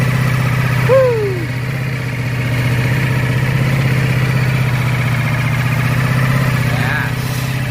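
A Ducati Panigale V4 motorcycle idles steadily at its first start-up, a close, even engine drone that runs throughout, with a brief voice near the start.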